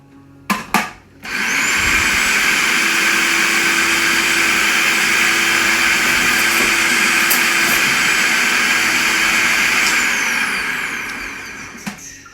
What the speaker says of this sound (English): Now I do more of a pulse on mine, so mine's up a little bit coarser than Chase's does